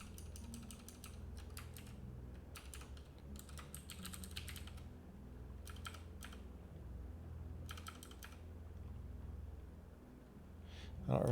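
Quick bursts of key clicks come from a computer keyboard, faint and close, in uneven clusters broken by short pauses.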